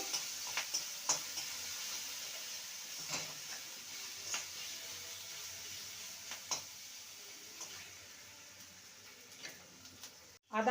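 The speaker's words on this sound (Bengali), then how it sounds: "আদা কাঁচা লঙ্কাটাকে ভালো করে ভেজে নেব" Ginger and green chili paste frying in a pan for a vegetarian papaya and potato curry, a steady soft sizzle with scattered light ticks of a spatula scraping and stirring, fairly quiet throughout.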